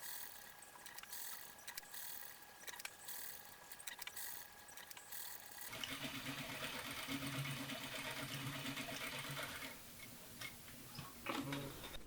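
A sewing machine stitching the seam joining the left and right mantle pieces of a medieval hood, with rapid rhythmic mechanical ticking and whirring that starts up partway through and runs steadily, close by and without speech.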